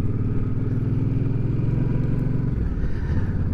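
Motorcycle engine running steadily and loud throughout on a ride, a continuous low rumbling drone with a slight drop in pitch near the end, no talking.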